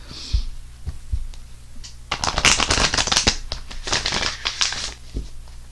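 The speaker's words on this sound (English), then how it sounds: "let's pull 1 Psychic Oracle Tarot. These cards are funny." Psychic Oracle tarot cards are shuffled by hand, close and loud, in a dense riffling burst. A few soft taps lead into it and fainter handling follows.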